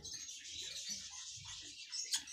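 Red-rumped parrots chirp faintly in an aviary, with soft, high twittering calls over a low background hiss and no talking.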